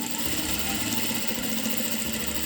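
A sewing machine stitches fabric for a homemade filter face mask, a steady, continuous mechanical whir with an even, unbroken drone, close up and without talk.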